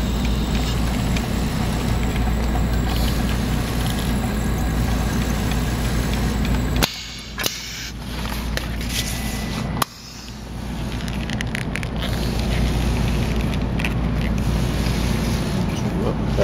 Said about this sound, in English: this is a 16-ounce material that Ben's going to weld, and it seems to weld just fine